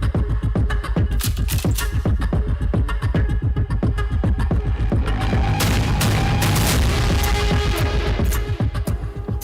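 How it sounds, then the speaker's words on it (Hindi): Rapid, dense bursts of gunfire crackle continuously at night in a border village in Kupwara, loud and close, with sharp repeated shots and booming echoes. "चार और 5 मई की रात कुपवाड़ा में अचानक गोलियां गूंजी।"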